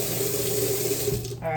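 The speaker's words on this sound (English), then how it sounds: "Let's give that one more wash." Food being washed under a running kitchen tap into a sink, a steady continuous splash of flowing water close by that shifts briefly near the end.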